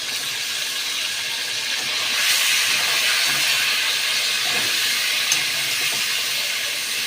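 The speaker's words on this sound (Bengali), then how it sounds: "চিকেনগুলো একটু ভেজে নেব" Chicken frying in a pan gives a loud, continuous broadband sizzle and hiss that swells slightly partway through, heard close up with no voices.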